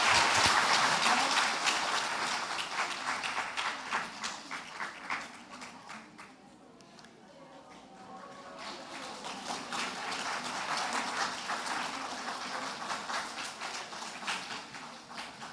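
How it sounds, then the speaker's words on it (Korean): A church congregation claps during a Korean Sunday service honoring teachers, with dense applause that is strongest at the start, thins out in the middle, then swells again. "큰 박수로 축복해 주시기 바랍니다."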